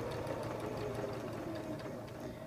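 A sewing machine stitches a buttonhole, its needle mechanism whirring in a fast, even, rattling hum that runs steadily throughout, close and fairly quiet, with no talking.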